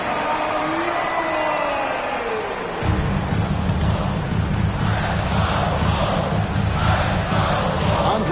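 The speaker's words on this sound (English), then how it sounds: "Please give a big round of applause for your Bulls." An arena crowd at a Bulls basketball game cheers and claps loudly, starting with a rising cheer over a public address announcement, then broad sustained applause and roaring that fills the space.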